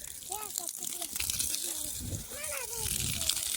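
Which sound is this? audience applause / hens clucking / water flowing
water flowing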